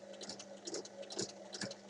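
A sewing machine stitches the bottom hem of a small fabric bag, quiet rapid bursts of needle clatter over a steady motor hum, close and faint, with no voices.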